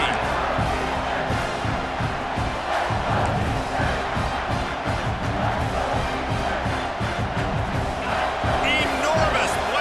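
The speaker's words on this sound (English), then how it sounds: "Third down, and this crowd is bringing down the house." A football stadium crowd roars on a tense third down in the closing seconds of a game, a dense, sustained wall of cheering and shouting that stays loud for the whole stretch, with whoops rising near the end.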